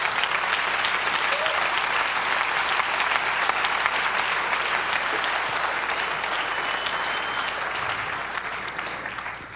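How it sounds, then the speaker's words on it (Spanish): A church congregation applauds steadily during a Spanish-language spiritual warfare service, dense sustained clapping from many hands that fills the room and tapers slightly at the end. "Denle un aplauso al Señor Jesús."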